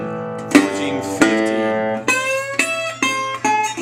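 Acoustic guitar picking blues licks, Delta style: a run of ringing plucked notes and chords, each attack sharp and sustaining, close and clear, unaccompanied by speech.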